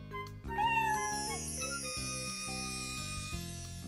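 A cartoon kitten meows repeatedly in a high, thin voice over bright, tinkly background music, each mew short and close.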